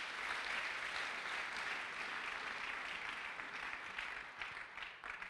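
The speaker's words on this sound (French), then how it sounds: "Acclamons la parole du Seigneur." A church congregation applauding together, a dense sustained clapping that fills the room at even loudness before thinning slightly at the end, no talking.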